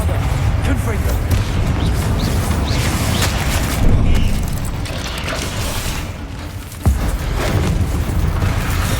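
A Confringo fire-blast spell in Hogwarts Legacy bursts with a heavy booming impact amid loud rumbling combat effects and mechanical clanks, with a voice heard over the game sound.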